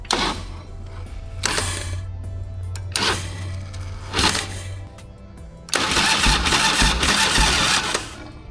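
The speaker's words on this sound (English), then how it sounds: "I'm gonna try to start it just to see if the starter will actuate" A Harley Davidson FXR motorcycle that has sat unused for sixteen years cranks on its starter in several short whirring bursts separated by pauses, ending in a longer, louder grinding turnover, close and without speech.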